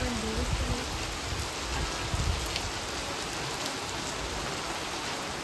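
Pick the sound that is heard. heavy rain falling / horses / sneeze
heavy rain falling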